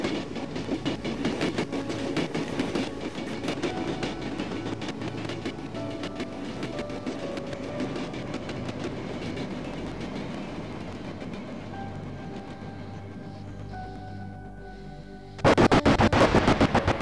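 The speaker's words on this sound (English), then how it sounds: "We're on this train, I think." A train in the video game Cry of Fear rumbles along continuously with rhythmic clattering and clacking, getting louder and harsher near the end.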